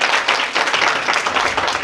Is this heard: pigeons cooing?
no